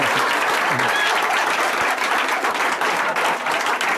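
Audience at a magic show bursting into loud, sustained applause, dense clapping from a crowd lasting the full four seconds.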